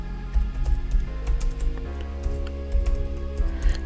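Typing on a computer keyboard while creating an eBay listing, quick irregular clicks in short bursts with brief pauses, close up and alone.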